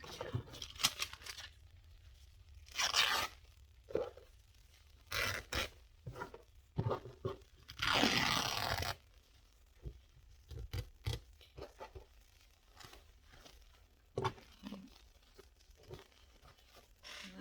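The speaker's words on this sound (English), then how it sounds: "I don't want to work with this big a piece of fabric. Let's just cut it here for now." Fabric being cut with scissors, heard as scattered close snips, rustles and crinkles of handled cloth in irregular bursts, with one longer tearing-like swish midway and quiet pauses between.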